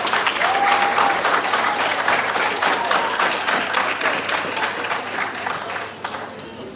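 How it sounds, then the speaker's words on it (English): Steady, full applause from the audience at a primary school national public speaking competition in Dominica, dense clapping sustained throughout and easing slightly near the end, with faint voices mixed in. "Let us give all our participants a round of applause for the efforts they made here today."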